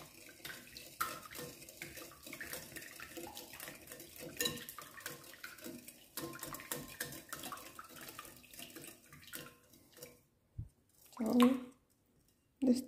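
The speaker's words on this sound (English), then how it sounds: "we're going to mix them all together." Cinnamon roll ingredients are stirred together in a bowl, producing wet squishing and clinking utensil scrapes in uneven bursts, close up, with brief pauses and a couple of sharper knocks near the end.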